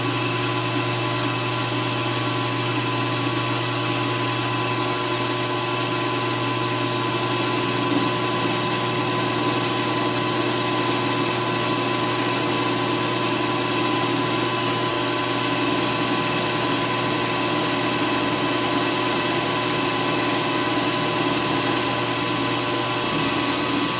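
A metal cutter machining flutes about 50 thousandths deep into a knob in a home shop, giving a steady, loud, unbroken mechanical whir and grinding hum that holds level throughout with no voices.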